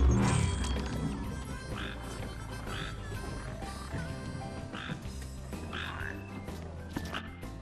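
Frog croaking in Final Fantasy XV, repeated short croaks at a steady rhythm over a dense game music and ambience bed, moderately loud throughout.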